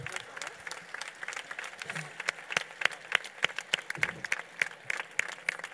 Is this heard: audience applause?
yes